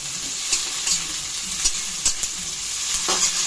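Whole garlic cloves, dried red chilies and bay leaves sizzle in hot oil while being stirred, with a steady bright hiss broken by several sharp scraping clicks of the spoon against the pan.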